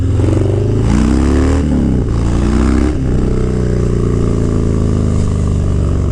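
A brand-new Harley-Davidson motorcycle revs loud and close, its engine note rising and falling in surges before settling into a steady, rumbling ride.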